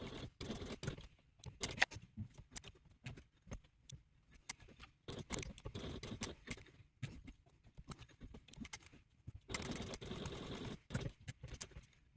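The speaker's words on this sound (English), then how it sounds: "next I will top stitch the clear vinyl to the ID pocket" A sewing machine top stitches clear vinyl onto an ID pocket for a mini wallet, giving fast, close mechanical stitching bursts separated by short pauses, with a longer steady run near the end.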